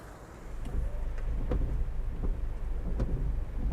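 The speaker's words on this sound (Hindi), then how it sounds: "बारिश शुरू हो गई और काफ़ी तेज़ बारिश आ रही है" Heavy rain falling at the Lavasa hill station area in Maharashtra: a dense, steady hiss of downpour with occasional sharper thuds of drops striking nearby.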